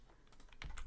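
A few quick clicks of keys pressed on a computer keyboard, faint and close, with no talking.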